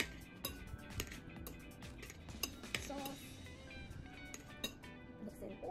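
Utensils clink and scrape against a bowl while hiyashi chuka sauce ingredients are mixed, a busy, irregular clatter of close metal taps with a few sharper knocks.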